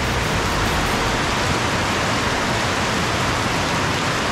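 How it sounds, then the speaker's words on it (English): Heavy rain pours down outside a coffee shop near Angkor Wat in Cambodia, a dense, constant roar of falling water, loud and unbroken, with no voices. "It is absolutely pouring out here."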